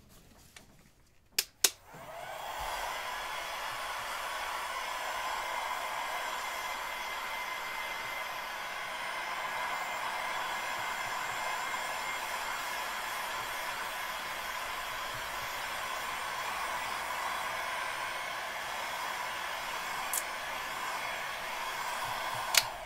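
After a couple of clicks, a hair dryer starts and runs in a steady, close whooshing blow over wet paint for an abstract floral finger painting, with a faint tap near the end.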